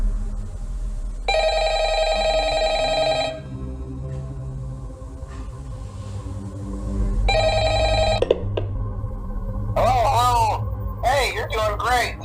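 Phone ringing in the Five Nights at Freddy's video game: two loud electronic ring bursts about two seconds each, separated by a pause, over a low droning hum, followed by chirpy warbling sounds.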